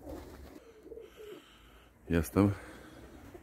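Domestic pigeons in a loft coo twice in close succession, fairly near and loud, over a quiet room background with someone speaking softly before it.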